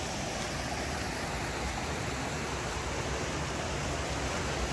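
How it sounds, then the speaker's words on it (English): Water rushes through an old stone culvert near a dam along the Farmington Rail Trail, a loud, unbroken roar that stays steady from start to finish. "There's way more water coming through it now."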